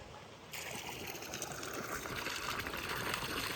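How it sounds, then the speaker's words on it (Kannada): After a brief quiet moment, water starts running steadily, a close, continuous trickling flow as an irrigation channel fills on a coconut farm planted with young coconut saplings. "ತೆಂಗಿನ ಸಸಿ ಎಲ್ಲ ನೆಟ್ಟು ಇವಾಗ ನಮ್ಮ ಯಜಮಾನ್ರು ಇಲ್ಲಿ ನೀರು ಬಿಡ್ತಾವ್ರೆ"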